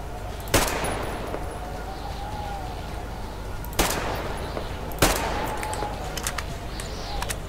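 Gunfire in the video game Metro Exodus cracks out in three sharp, loud shots spaced a few seconds apart over a low ambient rumble.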